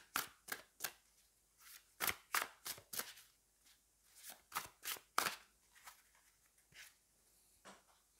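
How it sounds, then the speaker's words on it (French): Tarot cards from a Kai Love Tarot deck being drawn and shuffled by hand, a quiet run of crisp papery flicks and slaps in irregular clusters, close and soft with no voice over them. "on va aller prendre 3 cartes, là aussi, pour avoir une petite idée de"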